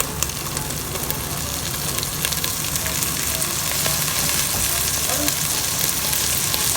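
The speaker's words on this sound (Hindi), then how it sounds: "अब हम इसके अंदर ऐड करेंगे चने।" Boiled chickpeas sizzle loudly in hot frying masala, a dense, continuous crackle with occasional stirring scrapes and no talking.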